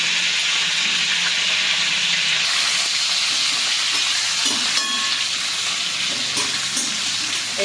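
Stuffed eggplant frying in a spiced masala in a pan, a steady loud sizzle with soft stirring scrapes throughout, no talking.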